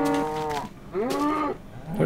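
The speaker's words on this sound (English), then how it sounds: "So I have the cows." Cows in the Minecraft video game moo twice in quick succession, each a drawn-out, clear, fairly close call, with another moo starting at the very end.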